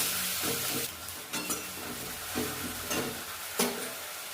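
Tomatoes sizzle as they hit a hot frying pan for a Bengali chicken curry, with a spoon stirring through them in bursts of scraping and crackle over a steady hiss, fairly close and with no voice.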